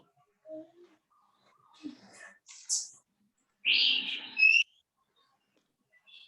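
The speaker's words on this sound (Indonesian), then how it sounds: "Giri, itu burung lo bagus bener suaranya." Clear bird whistles and chirps, a few short calls followed by a brighter burst of song, fairly close against a quiet background.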